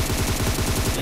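Rapid sustained automatic gunfire in PUBG Mobile, a loud, fast, evenly spaced burst of shots filling the whole second without pause or voices.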